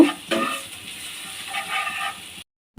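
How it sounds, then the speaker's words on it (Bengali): Small dried shrimp frying in a pan, a close, moderate sizzle with stirring scrapes that runs for about two seconds before cutting to silence. "এবার আমি ধুয়ে রাখা গুঁড়ো চিংড়িগুলো দিয়ে দেবো ভালো মতো ভেজে নেব"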